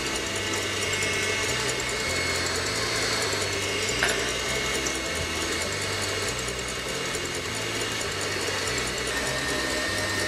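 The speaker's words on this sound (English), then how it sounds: "Always keeping an eye on our mixer." A stand mixer whisks eggs and sugar with a continuous loud mechanical whir and a repeating rhythmic clatter from the whisk, steady and close, with no talking.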